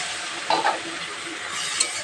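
Egg semolina being stirred in a pan, a steady soft scraping and sizzling wash with a couple of brief louder clinks of the spoon, close and continuous with no talk.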